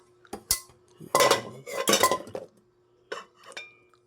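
An old, cracked metal cooking pot clanks and scrapes in a few separate bursts, close by, with brief clinks between quieter pauses.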